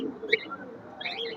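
Golden pigeons coo softly in a pen, with a couple of faint throaty calls and light chirps, fairly quiet and close.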